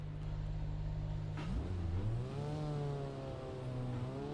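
Mazda MX-5 engine in the Assetto Corsa EVO racing game, a steady low drone that drops, then climbs through revs with rising harmonics, heard close and alone without talk.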